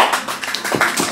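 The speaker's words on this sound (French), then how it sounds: "On applaudit." Brief burst of a few people clapping in a room, scattered close claps lasting about a second.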